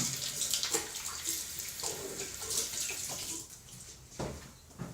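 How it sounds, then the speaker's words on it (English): Hands are washed under a running tap, a steady splash of water with shifting rubbing and dripping textures, close and fairly loud, with no voices. "I am going to wash my hands one more time just to be thorough"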